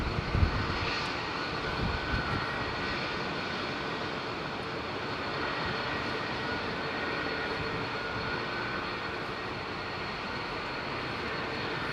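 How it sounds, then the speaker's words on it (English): Boeing 767 jet engines powering up at Heathrow Airport during a storm, a steady, broad roar and whine that holds constant throughout, with no voices. "You're going to hear these lovely old engines on this 767"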